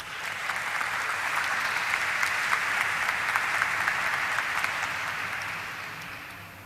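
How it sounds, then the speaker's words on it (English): Audience applause at a stock exchange listing ceremony for Flair Writing Industries Limited, a steady, sustained round of clapping from a seated crowd that fades toward the end. "Let's welcome him with a round of applause."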